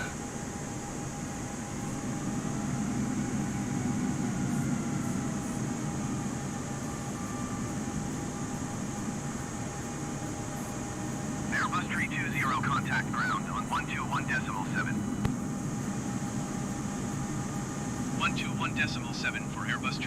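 Airbus A320 jet engines in a flight simulator game after landing, a steady broad roar with a constant whine running throughout, joined by bursts of higher-pitched hissing and clatter in the second half.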